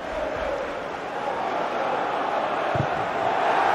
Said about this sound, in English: Celebrated it like a goal, that got the Newcastle crowd going.